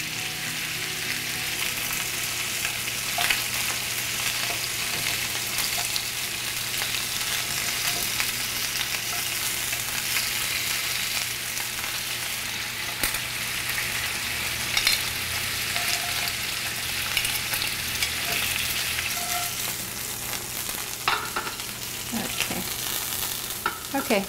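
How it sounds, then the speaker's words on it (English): Food searing in a hot pan makes a continuous, moderately faint sizzle and hiss that holds steady for a long stretch, with scattered small pops and a soft hum underneath, and no talk. "2 to 3 minutes on each side, just so it sears and gets a little bit brown"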